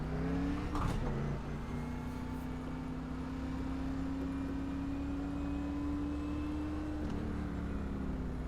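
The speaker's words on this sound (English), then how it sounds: "Might as well do a little burnout, I guess." Car engine held at a high, steady drone during a burnout, with a brief burst of noise near the start and another toward the end, moderately loud and continuous with no talk.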